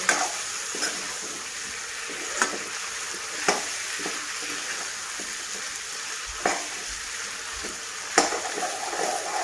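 Spices, ginger and garlic sizzle steadily in a pan for fish curry, with soft scraping stirs recurring every second or two, close and moderately quiet.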